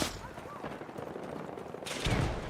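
Gunfire in the video game Battlefield 6, rapid overlapping shots crackling under a dense mix of game noise, with a heavier burst of firing near the end.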